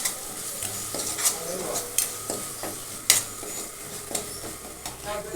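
Salt being stirred into tomato masala in a frying pan: a soft steady sizzle under repeated scraping and clinking strokes of a spoon against the pan, a few sharper knocks standing out.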